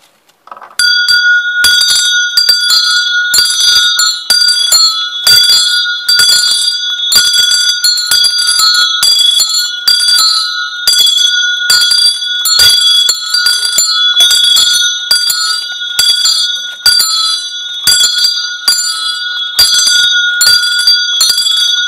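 A wooden bell tower rings a full peal for mass: several bells strike in a fast, continuous, overlapping pattern, loud and close, with bright ringing tones that sustain between strikes and no talking.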